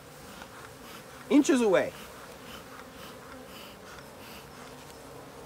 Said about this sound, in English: If you guys ever wanted to see unhappy bees, you're doing it, and I am feet away.